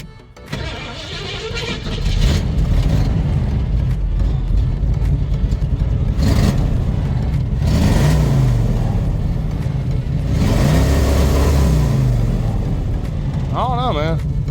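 A 1968 Ford Mustang engine turns over, catches and runs at a steady, loud idle with a few swells of revving, while people talk over it.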